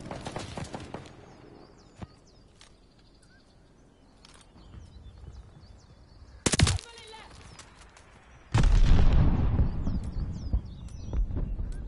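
Mortar shells burst in a Call of Duty: Vanguard battle: a sharp blast near the middle, then a heavier, sustained roar of explosions at the end, with scattered gunfire cracks and a distant voice early on.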